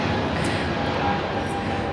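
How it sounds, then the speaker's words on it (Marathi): A fixed-wing airplane passing low near an airport, a steady, loud broadband roar that holds for the whole two seconds with no break or voices. "इकडच्या काही भागामध्ये आहे ना विमानाचा आवाज खूप मोठा येतो"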